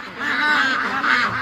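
Free-range ducks call loudly at feeding time, giving a close run of harsh, honking quacks that overlap in a continuous chorus.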